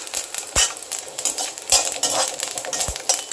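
Cloves, cinnamon, fennel seeds and cashews roasting in a pan for a raw jackfruit kurma, with a spoon scraping and clinking against the metal pan over a soft sizzle.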